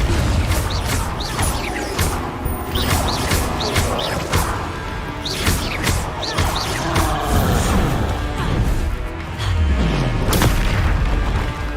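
Repeated booming blasts and crashes from spell explosions in a video game, a dense series of heavy impacts arriving every second or so with rumbling low end, loud and close, sometimes overlapping.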